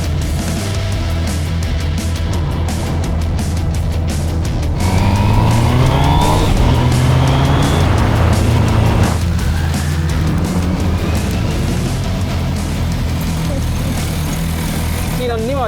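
An MV Agusta motorcycle engine revs loudly and continuously up and down, rising and falling in pitch under steady mechanical roar, with a voice speaking briefly over it.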